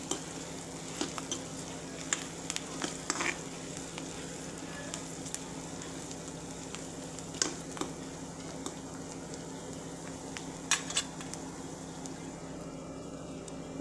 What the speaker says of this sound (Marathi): छानपैकी गोल्डन ब्राऊनवर भाजून घ्यायचा आहे आपल्याला। अधूनमधून हलवून घेऊ